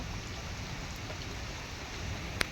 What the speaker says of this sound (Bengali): পুরো রাস্তা পুরো জলই ভরে গেছে, যা এমন বৃষ্টি হচ্ছে।